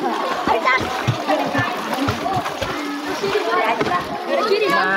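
Water splashing from people swimming and bathing in a village mosque pond, a continuous busy churn of splashes with a voice and other chatter mixed in.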